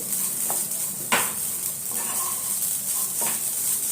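A mixture stirred and roasted in a pan over a low gas flame: a steady soft sizzle runs throughout, broken by a few brief scrapes of the spoon.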